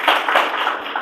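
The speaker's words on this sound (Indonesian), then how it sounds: "Tepuk tangan bagi Tuhan" A church congregation claps together in a dense, steady patter of applause that lasts about a second and rises and falls slightly, with no talking over it.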